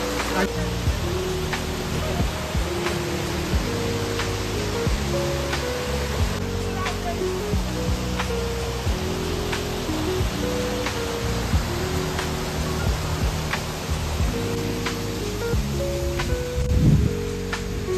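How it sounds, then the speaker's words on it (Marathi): A strong, steady rush of the Kondeshwar river flowing over slippery rock runs continuously throughout, partly masked by loud tonal music layered on top. "या नदीचा पाण्याचा प्रवाह खूप मोठा आहे"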